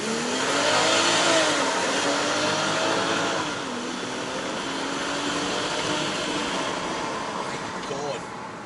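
A BMW X5 xDrive 45e plug-in hybrid SUV accelerates with a rising, whining engine and motor tone that climbs in pitch, steady and fairly close, with a voice talking over it.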